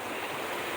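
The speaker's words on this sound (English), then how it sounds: "Listen to the water" Water flows steadily in a quiet, shaded outdoor spot, making a continuous broad rush that sounds close and even, with no voices.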